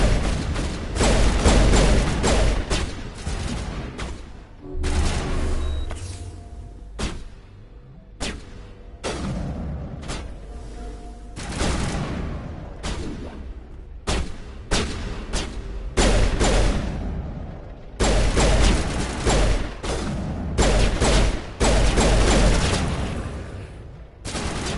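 Dense, loud gunfire in Mass Effect 1, sustained volleys and bursts with heavy booms running almost continuously for nearly half a minute, with brief lulls between clusters of shots.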